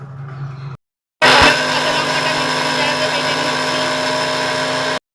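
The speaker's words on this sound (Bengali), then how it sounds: "আর টমেটোর সাথে কাঁচা লঙ্কাটা বেটে নিচ্ছি মিক্সিং জারেতে" A kitchen mixer grinder blends tomato with green chilies in its mixing jar, a loud steady motor whine that starts abruptly after a short pause and holds evenly for about four seconds before cutting off.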